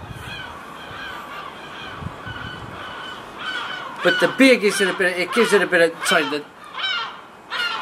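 Seagulls call outdoors in harsh, repeated cries, loud and close in the second half, over a man's speech about a craft beer.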